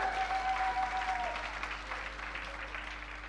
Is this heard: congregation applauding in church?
yes